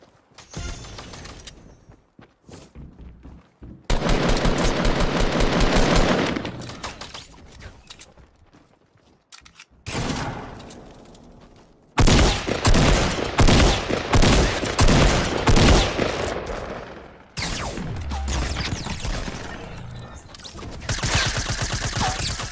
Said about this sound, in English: He's firing at someone else.